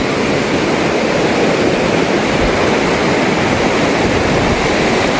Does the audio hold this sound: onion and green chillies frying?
no